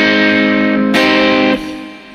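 A custom Telecaster plays through Guitar Rig software on a Vox AC15 or AC30 style amp simulation, giving a few sustained, gritty chords that ring close and clear, then drop and fade, with no talking.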